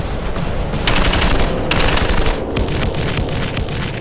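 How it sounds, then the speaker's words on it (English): Dushka .50 caliber heavy machine gun firing during an ambush battle at Takur Ghar, loud, dense bursts of rapid heavy gunfire with booming reports, continuous and close throughout. "The Dushka 50 caliber heavy machine gun unleashes its devastating power once more"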